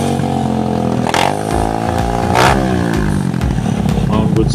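A Honda Smash 110 motorcycle engine with a 54mm bore-up and 26mm carburettor is revved in a test. It drones steadily, then climbs in pitch in two sharp throttle blips, with a voice heard alongside.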